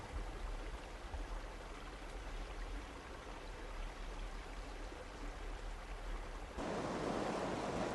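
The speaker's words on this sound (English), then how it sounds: "Windy little river" A small, windy river flows through the Gorges du Verdon, its steady broadband rush of water mixed with wind noise, continuous and close, growing louder and brighter near the end.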